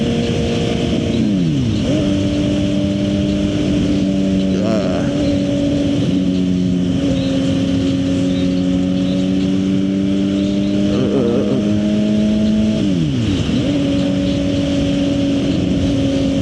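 A Suzuki GSX-R 750 motorcycle engine under way, a loud steady whine that climbs through the revs, drops with gear shifts and rises again, held close and constant over wind rush.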